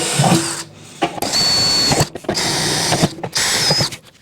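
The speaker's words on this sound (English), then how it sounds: "I'm just gonna drill through these holes with the 3/16" drill bit and get this riveted" Power drill boring through rivet holes in a 5-gallon plastic bucket with a 3/16 inch bit, several short whining bursts separated by brief pauses, close and loud.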